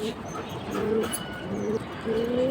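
Pigeons bred as flying birds of the Palla line coo softly in repeated, low, rolling phrases, close by and fairly quiet against a steady background hiss.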